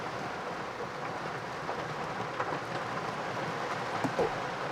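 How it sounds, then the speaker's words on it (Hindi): Steady, heavy downpour heard from inside a Hyundai Creta Electric on a road trip, with a dense, unbroken hiss at fairly high level, no voices, a few louder splashes near the end. "बहुत ही तेज़ बारिश भी हो रही है"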